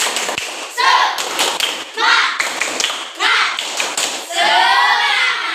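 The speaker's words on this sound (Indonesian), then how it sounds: "Coba Bapak minta tepuk semangat lagi sebelum ini." A school class performs a rhythmic cheer clap in bursts of synchronized hand taps and thumps, loud and close, with children's voices chanting between the clapping patterns.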